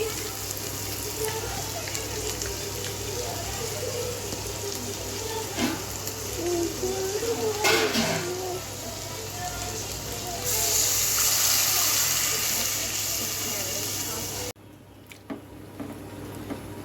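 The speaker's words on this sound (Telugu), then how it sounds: "వాటర్ వేసుకోవడమేనండి" Water pours and splashes into a hot cooking pan of biryani-flavoured rice with biryani masala, a steady rushing hiss with sizzling that runs for most of the stretch and then cuts off abruptly near the end.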